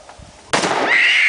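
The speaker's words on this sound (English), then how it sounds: "Just pull the trigger." A single loud blast from a 12-gauge shotgun firing a 3 1/2 inch shell cracks out close by, followed by a ringing, fading echo, with faint voices before the shot.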